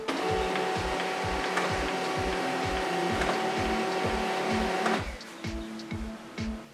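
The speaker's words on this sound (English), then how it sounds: "Let's plug in the printer and go through the initial steps." A machine whirs steadily with a fast, regular mechanical clatter, then shifts to a quieter, uneven hum near the end.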